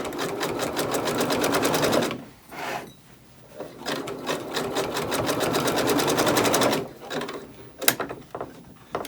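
A sewing machine stitching across a thick terry towel for an oven door towel, running in loud, steady, rapid bursts with one brief pause and a sharp clack near the end.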